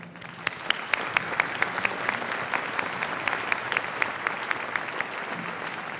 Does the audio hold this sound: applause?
yes